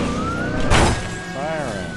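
A police car siren in a GTA-style open-world video game wails steadily and close, its pitch rising and falling, while a player talks over it.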